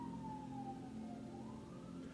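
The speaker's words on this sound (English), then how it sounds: "Do you hear these sirens?" Emergency vehicle sirens wail faintly in the distance, a single slow rising and falling tone heard over low background hum.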